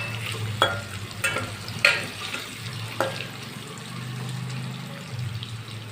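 Potato pieces fry in oil in a pan for a rohu fish curry. A continuous sizzle runs throughout, broken by a few sharp clacks as the potatoes are stirred and lifted, close by with no talking.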